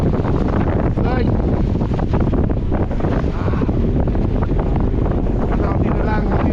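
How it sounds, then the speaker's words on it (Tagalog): Strong wind buffets a small boat at sea, a continuous loud roar and microphone rumble with wave noise, while a voice speaks over it. "Lakas ng hangin."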